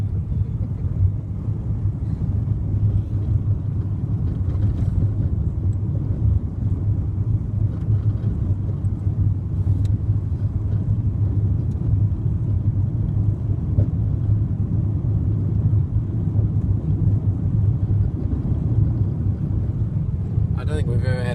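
A Toyota Camry cruises along an open road on a road trip, giving a constant low rumble of engine and tyre noise from inside the cabin, with a little wind buffeting and no pauses.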